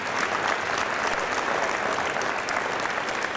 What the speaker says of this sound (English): So let's give them a round of applause for that.